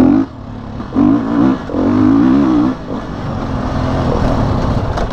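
A Beta Enduro RR 480 enduro motorcycle engine revs hard in a short gear, loud and close, with repeated throttle blips that rise and fall before a sustained roaring pull.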